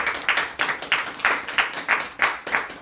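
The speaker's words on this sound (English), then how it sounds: "Now put your hands together for the people" Conference audience applauding at a London cryptocurrency event, a steady run of many hands clapping in repeated swelling bursts, fairly close and fully filling the room with no talk over it.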